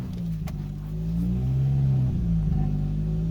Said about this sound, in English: it revs up and it can't hold an idle.